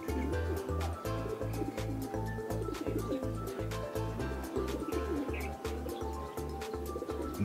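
Racing pigeons arriving at a loft during a summer fun race give a rhythmic, repeating low coo that pulses about twice a second, close and steady, with light chirps above it.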